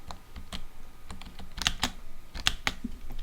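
Scattered keystrokes on a computer keyboard during a game, close, sharp clicks in uneven clusters with short pauses, over a faint background hum.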